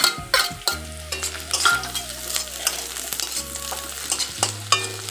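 Garlic, some grated and some in pieces, frying with browned onions in a pan for a jackfruit-seed curry, with steady sizzling and scraping stirs under prominent background music.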